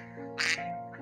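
A single loud quack from a duck rises sharply in the middle of a brief moment, with no talking over it.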